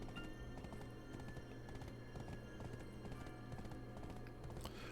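Horse hooves clip-clop steadily in Black Desert Online, a dense repeating patter of steps with an occasional whinny, loud and continuous with no talk over it.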